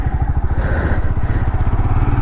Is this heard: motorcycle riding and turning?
yes